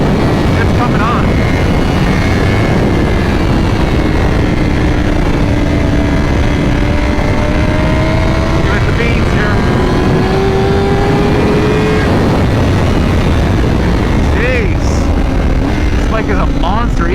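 A 2025 Honda CBR1000RR-R SP sportbike revs and accelerates hard in a track setting, its engine note climbing in pitch through the gears beneath a constant heavy roar of wind.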